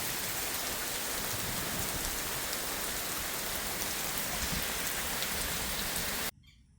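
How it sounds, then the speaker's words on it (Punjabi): Heavy monsoon rain pours steadily over farmland in a dense, loud hiss with no voices, then cuts off abruptly near the end. "ਮੀਂਹ ਦੇਖੋ ਪੈਂਦਾ"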